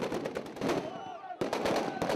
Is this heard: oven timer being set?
no